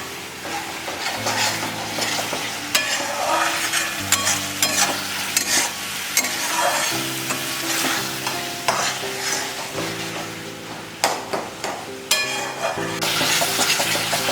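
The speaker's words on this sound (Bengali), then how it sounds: "দেখুন মশলাটা কতটা কষা হচ্ছে আরও পাঁচ মিনিট কষবো কাঁকড়াটা" Crab and spice masala stir-fried in a pan: continuous sizzling with repeated scraping and clinks of a spatula against the pan at an uneven rhythm, close and fairly loud.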